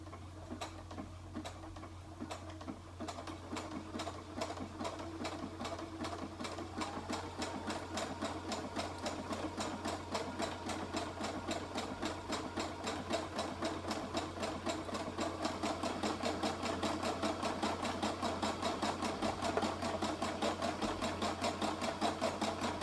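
A sewing machine runs steadily, stitching a shirt seam or hem with a rapid, even ticking rhythm that grows slightly louder toward the end, heard close up over a low hum with no voices.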